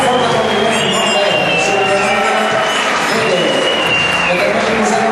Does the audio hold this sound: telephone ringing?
no